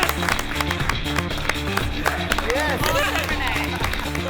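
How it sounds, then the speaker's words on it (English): Studio crowd up in the gantry of a cooking competition kitchen cheering and clapping, a continuous wash of applause and excited voices that stays steady and fairly loud throughout, with a few whoops rising above it. "The gantry starts cheering."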